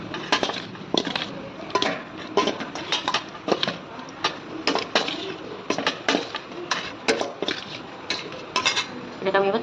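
Paneer is mixed in a bowl with a spoon that scrapes and clinks against the dish in quick, uneven strokes, close and steady, with no talking.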